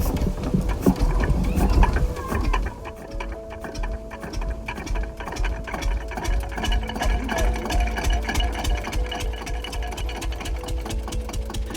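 A 1951 Allgaier A22 tractor engine is hand-started after a rough, loud initial burst and then settles into a fast, even, ticking single-cylinder idle that chugs steadily up close.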